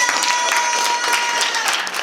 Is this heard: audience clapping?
yes